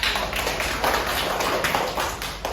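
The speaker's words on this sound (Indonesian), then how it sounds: "beri aplaus untuk Iqbal." Applause from a classroom of students during a lesson, a dense patter of many hands clapping steadily and fairly close for the whole stretch, with no talk over it.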